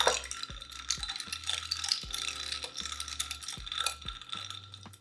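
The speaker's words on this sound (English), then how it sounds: "And then I'm just going to give this a stir." A spoon stirs a chilled coffee drink in a glass, clinking and rattling in quick repeated strokes, close and fairly quiet with no talk.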